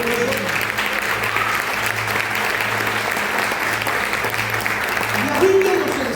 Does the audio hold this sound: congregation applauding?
yes